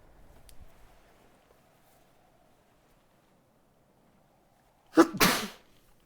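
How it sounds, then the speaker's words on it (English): A single sharp sneeze bursts out close and loud after several seconds of near silence, with a quick intake followed by the explosive release. "Sorry, I'm gonna sneeze again."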